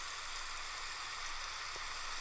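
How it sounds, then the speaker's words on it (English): Heavy rain plays as white noise for a baby's sleep, a soft, even hiss of dense falling drops at low volume, unbroken and without talk. "And this is heavy rain."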